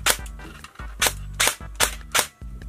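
Gate Titan V3 AKS74UN airsoft AEG on a 7.4V battery firing a series of sharp single shots and short bursts, loud and close, with mechanical whir between the cracks.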